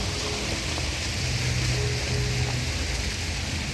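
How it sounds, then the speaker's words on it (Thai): Dense, steady hiss of rain falling outdoors, continuous and fairly loud, with no voices. "ฝนจะลงเม็ดนะครับ"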